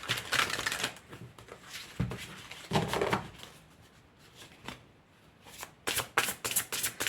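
Tarot cards being shuffled by hand before a card is drawn, a dense flurry of crisp riffling and slapping bursts that pause briefly midway, close and fairly loud with no talk over it.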